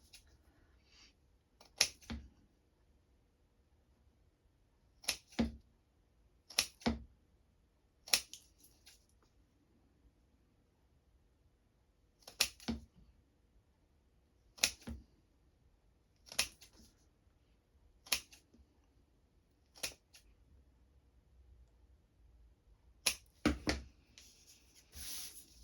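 Sharp, sparse snips of scissors trimming toothpicks down on a handmade toothpick baren, about a dozen crisp cuts in irregular pairs and singles separated by quiet pauses.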